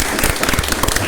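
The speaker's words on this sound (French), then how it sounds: "je vous demande de faire beaucoup d'applaudissements pour Ami Wassidje" Audience applause for a performer at a live broadcast show, a dense continuous burst of clapping throughout the short moment.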